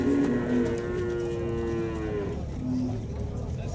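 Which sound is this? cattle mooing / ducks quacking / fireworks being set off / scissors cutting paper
cattle mooing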